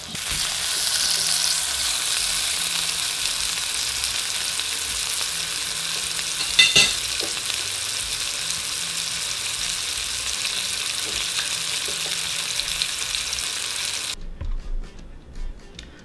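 A wagyu steak sizzles loudly in a hot pan, a constant crackling hiss with one brief clatter midway, before the sizzle cuts off abruptly near the end.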